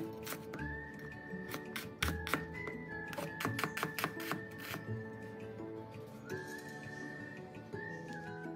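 A knife slices through two small red shallots on a board, making a series of crisp, quick taps over soft background music.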